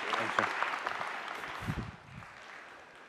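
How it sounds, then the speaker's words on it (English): An audience at a machine learning conference keynote breaks into a short round of applause that fades within a few seconds, with a voice speaking over it. "So let's have a round of applause for Peter Bartlett."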